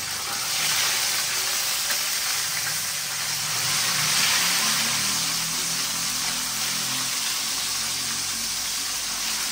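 Steady, loud sizzling of red snapper (maya-maya) frying in hot oil, a dense crackling hiss that holds throughout with no talking.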